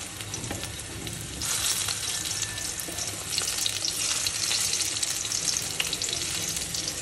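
Pumpkin frying in a wok sizzles continuously, with crackling oil and occasional stirring scrapes; the hiss grows louder partway through and stays steady, with no voices.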